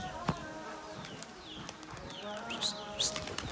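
Birmingham Roller pigeons coo and birds chirp outdoors, with faint wingbeats and scattered calls over a steady background; a short whistle rings out near the end.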